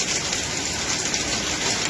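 Heavy rain pouring down in a flooding street, a steady dense hiss of water with no pauses, close and loud throughout.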